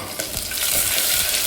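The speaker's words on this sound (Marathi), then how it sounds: "तर बघा कांदा टाकला आणि इथे लसूण टाकून घेत आहे मी" Chopped onion and garlic frying in a pan of oil at home in an Indian kitchen, giving a steady close sizzle with light stirring scrapes that grows slightly louder partway through.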